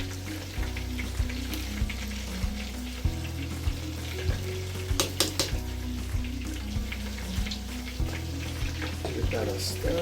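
Rice being stirred in a pot for Jamaican-style rice, with steady close scraping strokes over a low cooking hum and sizzle, a few sharper clinks near the middle, and faint talk in the background.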